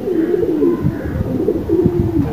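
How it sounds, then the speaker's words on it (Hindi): Pigeons coo steadily up close, soft rolling calls repeating over a constant background hum. "दो तीन कबूतर उतरे"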